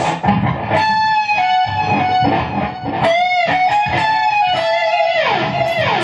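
Electric guitar phrase with overdriven notes and a half-step bend up and release, played as a continuous, fairly loud riff with no voices.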